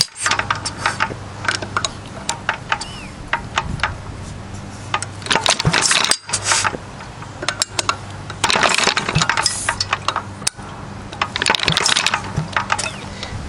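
A Fairbanks Morse Z/D engine, low on fuel, is cranked over by hand, giving irregular metallic clanks, clicks and ratcheting knocks in uneven bursts, close and fairly loud, with no steady running.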